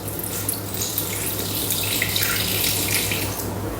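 Liquid pours from a Thermomix jug through its pouring spout, a close, steady splashing trickle lasting a few seconds.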